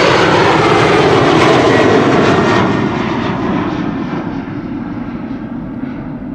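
A loud airliner departs from a runway at Amsterdam Schiphol Airport on a sunny day, its engine roar steady and broadband before slowly easing as it moves away.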